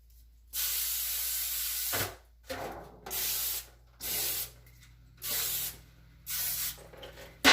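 Five short hissing bursts of aerosol cooking spray into a cornbread pan, each about a second long, separated by brief pauses and heard close up.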